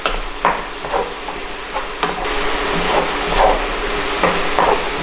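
Vegan mince warms in a frying pan, stirred with soft scraping strokes at an irregular rhythm over a steady low sizzle and hiss; close by, with no talking.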